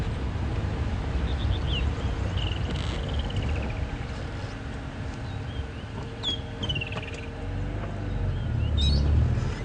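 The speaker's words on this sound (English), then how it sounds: "Now that's a beautiful call, that bird," A bird calls on a morning safari drive, thin rising and falling whistled notes repeating a few times over a constant low engine and wind rumble.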